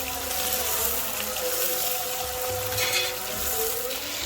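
Two medium onions sizzle and fry steadily in about one and a half cups of hot oil, browning for aloo gosht; a dense, continuous crackling hiss at an even, moderately loud level with no talk.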